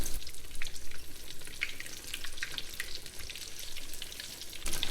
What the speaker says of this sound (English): you can add 3 of the eggplant slices to the pan. Flip your eggplant.